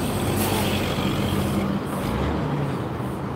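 A truck passes on a nearby road with a steady, loud rumble of engine and tyre noise throughout, rising and easing slightly, with a brief air-brake-like hiss possible; no talking.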